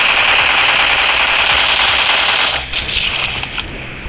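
Rapid automatic gunfire from the PUBG Mobile battle game rattles loud and close in a sustained burst, then breaks into scattered shorter shots.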